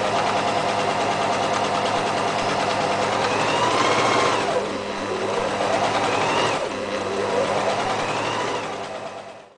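A sewing machine runs steadily for two straight rows of stitching near a fabric edge, a close, loud, continuous whirring hum that dips briefly midway and again near the end, then stops.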